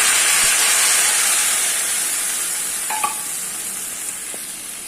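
Mustard and poppy seed paste hits hot oil in a pan for a pomfret curry gravy, giving a loud steady sizzle and hiss that slowly fades, with a few faint utensil clinks.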